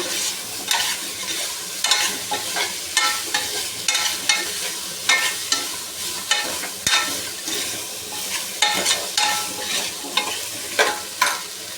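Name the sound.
frying potatoes and eggplant in a pan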